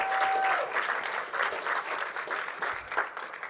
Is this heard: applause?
yes